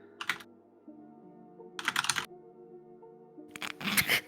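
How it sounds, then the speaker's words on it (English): Three quick bursts of fast, hard typing hit a computer keyboard, rattling up close with short pauses between them over a low steady background hum, no voices. "You can just hear this man's fingers slamming the keyboard."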